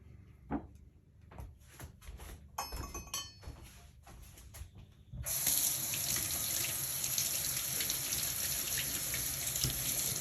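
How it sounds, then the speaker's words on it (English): Limes are rinsed under a running kitchen tap ahead of zesting. A few clinks and handling knocks come first, then the water switches on into a steady, loud, close rush into the sink that continues to the end, with no talk. "because we're going to zest the limes, I am going to wash them off"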